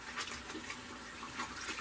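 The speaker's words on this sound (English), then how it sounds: "I am going to wash my hands" Steady running water from a tap as hands are rinsed to wash off synthetic coolant, a continuous close hiss and splash with no speech.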